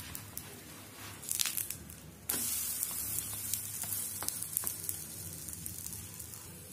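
Banana pancake sizzles steadily in ghee on a hot tawa, a continuous frying hiss that jumps louder partway through, with no voices over it.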